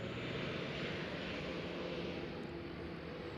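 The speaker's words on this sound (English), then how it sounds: "He might take off on our runway here." Airplane at Nashville airport (KBNA), a steady, loud jet engine roar with broadband rumble that holds constant throughout, heard from nearby with no talk.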